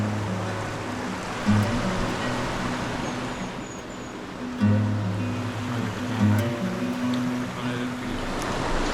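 A river on New Zealand's West Coast, flowing beside natural hot pools, gives a steady rushing wash of water from start to finish, with a few low thumps and swells rising above it.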